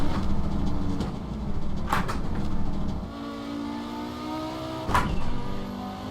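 A car engine drives in the Assetto Corsa racing game, with a steady loud engine drone rising and falling through gear changes and a few sharp shift thumps, with no talk.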